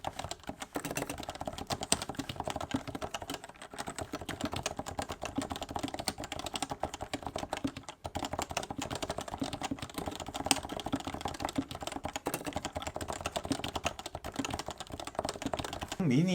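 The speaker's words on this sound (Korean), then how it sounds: "타이핑을 좀 해볼까요?" Steady, continuous typing on a Topre keyboard with soft, muted keystrokes in a quick irregular rhythm, with occasional speech mixed in.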